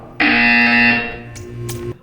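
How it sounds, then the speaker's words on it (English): A harsh, distorted electronic buzzer from the video game Portal 2 sounds in one loud burst of about two seconds, dropping slightly in tone partway through. "You will hear a buzzer."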